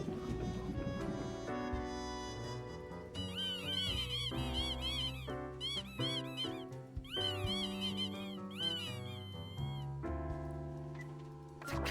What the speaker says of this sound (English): Cat sits behind the table.